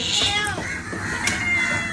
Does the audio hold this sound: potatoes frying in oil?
no